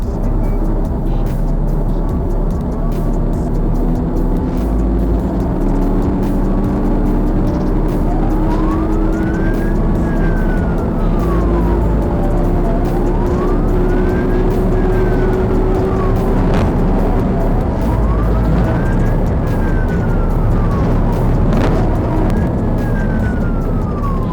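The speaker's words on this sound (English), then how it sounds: "Lights, sirens, the works." A police car siren wails, sweeping slowly up and down over heavy road and engine noise, loud and continuous during a chase.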